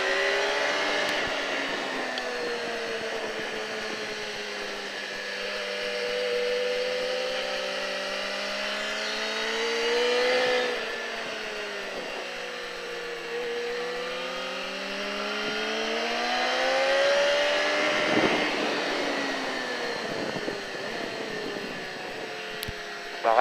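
A motorcycle on the Alès track during a riding school session accelerates and revs repeatedly, engine pitch rising and falling through gear changes, loud and close, with a voice coaching over it.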